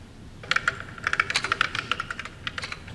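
Quiet, close typing on a computer keyboard: a quick irregular run of light key clicks for a few seconds, with no voices.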